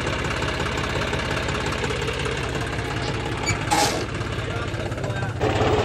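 A tractor engine fitted with a modified full smoking system runs with a dense, continuous knocking chug at close range, loud and unbroken from start to finish.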